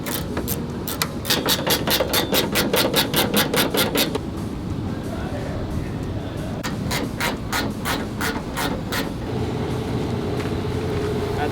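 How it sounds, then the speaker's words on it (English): A 16 mm wrench works loose the bolts on the bed roll cage of an Ineos Grenadier Quartermaster pickup, giving close, rapid bursts of sharp metallic clicking in two runs separated by a short pause. "So to take the cage off, all you need is a 16 mil wrench."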